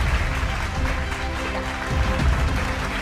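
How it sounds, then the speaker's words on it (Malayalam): An audience at a stage finale claps in steady, dense applause to welcome Afreen onstage, broad and continuous throughout with a faint murmur of voices beneath it. "ലേഡീസ് ആൻഡ് ജെന്റിൽമെൻ, നല്ലൊരു കയ്യടി നൽകിക്കൊണ്ട് നമുക്ക് അഫ്രീനെ വേദിയിലേക്ക് സ്വാഗതം ചെയ്യാം"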